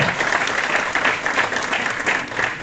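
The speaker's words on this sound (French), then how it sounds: "On peut applaudir également." Audience applause at a youth tournament draw ceremony in Dirinon, steady dense clapping from a crowd filling the room from start to finish.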